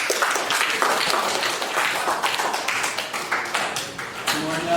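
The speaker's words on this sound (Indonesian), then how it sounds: "Tepuk tangan untuk semuanya." Classroom applause for all the students in a teaching session, a steady dense wash of many hands clapping throughout, fairly loud and continuous.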